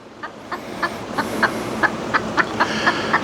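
A hen clucks in a steady, regular series of about a dozen short, close, moderately loud clucks, agitated because she can't reach the coop, with no talk over her.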